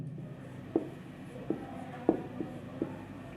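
A word written by hand, probably pen on paper: quiet, sparse scratchy strokes, a few distinct taps and scrapes over low room hum.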